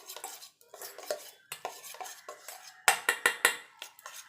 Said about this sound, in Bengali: সেটাকে ভালো করে ফেটিয়ে নেব।